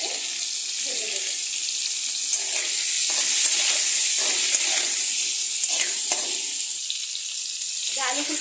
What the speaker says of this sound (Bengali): অল্প লবণ আর হালকা লাল করে আমি এটাকে ভেজে দেবো